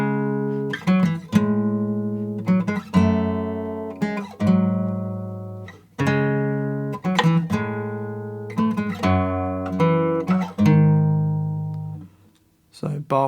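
Fingerstyle acoustic guitar plays the Gustave theme from the game Clair Obscur: Expedition 33, with plucked melody notes over bass notes in a steady phrase that rises a tone after a key change, close and clear, with no voice.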